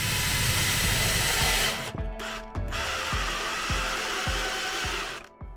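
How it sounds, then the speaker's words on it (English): A Ryobi cordless drill driver runs loudly and steadily for nearly two seconds, cuts out, gives a short burst, then whirs on again with faint repeating clicks before stopping near the end. "This is a drill driver."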